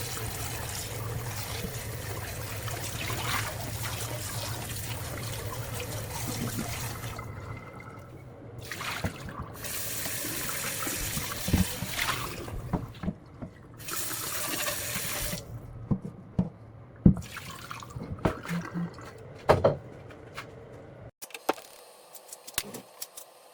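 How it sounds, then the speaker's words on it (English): Pot scrubbed with chopsticks under a running kitchen tap, a steady stream of water broken by irregular scraping, clinking and splashing that grows choppier toward the end. "In this way, you can scrub the pot with chopsticks"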